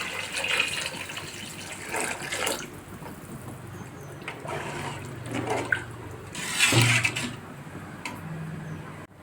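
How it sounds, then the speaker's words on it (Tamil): About five litres of water are poured into a pot of sautéed onions and oil for mutton biryani made with jeera samba rice, giving irregular splashing and gushing bursts nearby. "இப்போ 5 லிட்ரு தண்ணி ஊற்றுறேன்."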